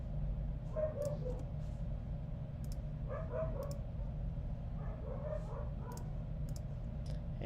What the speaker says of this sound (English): And there's my dog barking there.